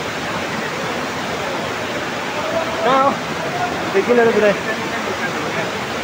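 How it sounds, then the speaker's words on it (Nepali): Namaste waterfall in Dhankuta, Nepal, gives a steady, loud roar of falling water, while a person speaks briefly over it. "हेर्नुहोस् माथि झरना यस्तो छ। माथिबाट"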